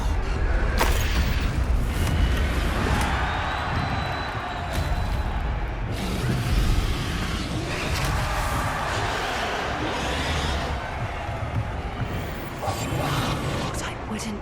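Confringo explosive spell blasts in Hogwarts Legacy during a dragon rescue fight: several loud, deep booming bursts rise out of a dense, continuous rumble of battle noise.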